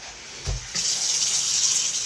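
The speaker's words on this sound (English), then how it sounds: "I'm actually going to turn on my hot water too, because we're going to need hot water for the next step" Hot water running from a kitchen tap, a thud as the faucet opens and then a steady close rush of flowing water.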